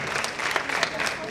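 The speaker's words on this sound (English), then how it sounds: "Please clap for her." An audience at a spelling bee competition gives a brief burst of applause, a short, moderately loud wash of clapping with faint voices mixed in.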